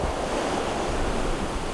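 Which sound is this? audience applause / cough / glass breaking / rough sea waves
rough sea waves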